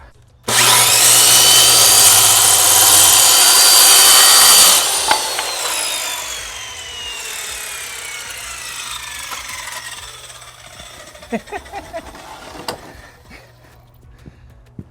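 A power saw cuts through wood beside a portable power station, a loud close whine lasting about four seconds that spins down to a fading hum, followed by scattered clunks and knocks as pieces are handled.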